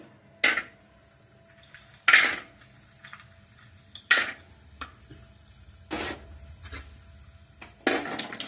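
Cashews dropped into a hot pan for semiya laddu, giving sharp rattling clatters in five separate bursts against a quiet kitchen background, close and fairly loud with no one talking.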